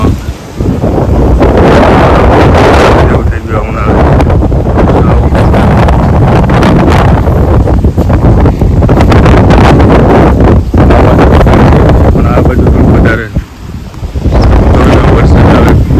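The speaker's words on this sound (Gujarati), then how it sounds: "પવન જોર જોરથી ફૂંકાય છે" Strong gusty wind buffeting the microphone during a summer downpour in Dhajala, a loud continuous roar with brief lulls, with someone speaking briefly over it.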